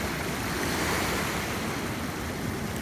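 Surf breaks on the rocks at Glass Beach in a continuous, loud roar that stays even from start to finish, backed by a breath of wind. No voices are heard.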